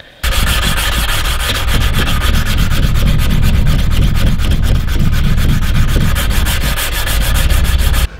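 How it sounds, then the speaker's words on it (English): Steady, rhythmic strokes of sandpaper rubbing back and forth on a micarta knife handle, close and loud, continuing without pause and no voices. "So I finished hand sanding,"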